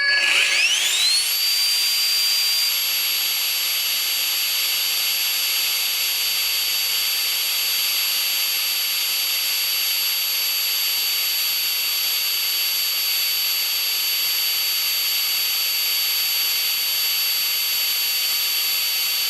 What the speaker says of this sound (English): here's the impeller in it. And it's crazy fast.